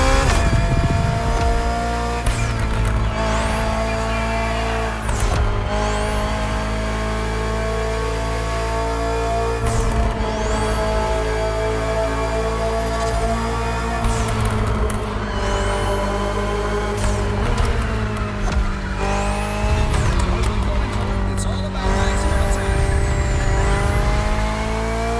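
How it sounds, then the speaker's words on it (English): BMW M Hybrid V8 endurance race car from The Crew Motorfest racing game, its loud engine roaring and revving continuously through upshifts and downshifts, with rising and falling pitch sweeps and occasional tire squeal. "The BMW M Hybrid V8. What a beast."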